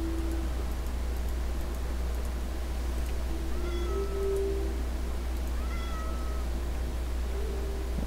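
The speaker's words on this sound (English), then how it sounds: "I hear the kitty meows." Two short meows from a cat in a Minecraft build, set against a steady low hum and faint background noise, with no speech.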